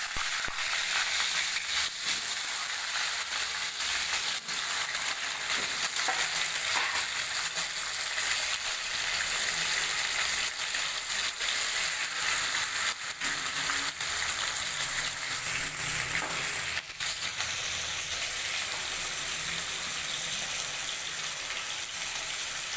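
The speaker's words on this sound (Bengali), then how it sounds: "এবার মাছ রান্নার জন্য আলুগুলো ভালো করে ভেজে নেব।" Potatoes seasoned with salt and turmeric fry in oil in a wok, a dense, continuous hissing sizzle that stays close and even for over twenty seconds, broken only by occasional clicks, with no voices.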